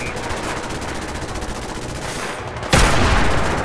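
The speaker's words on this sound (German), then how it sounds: "Ja, ich schieße doch schon." Sustained automatic gunfire from the video game Fallout 4 rattles steadily at full volume, then a louder blast or burst hits near the end and carries on, with no talking over it.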